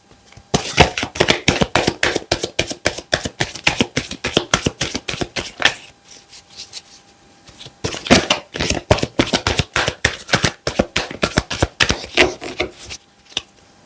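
Tarot cards riffled and shuffled by hand, dense rapid flutters of card edges in long bursts with a brief lull in the middle, close and crisp with no talking.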